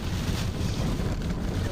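Strong roaring wind during a tornado, a loud steady rush buffeting the microphone with no break.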